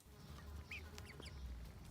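Chickens eating strawberries give faint, soft clucks and quacking-like calls that repeat over a steady background hum. The sounds are quiet and distant, as if coming through a small speaker.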